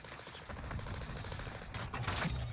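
Rapid gunfire from Call of Duty Vanguard Warzone, bursts of automatic shots in a quick rhythm, faint and somewhat distant.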